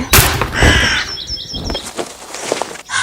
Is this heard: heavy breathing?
no